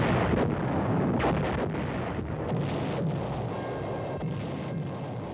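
Artillery fire from shore batteries in a WW2 newsreel rumbles as dense, continuous low booming and roaring, like distant heavy guns under a steady wash of noise, with no voices.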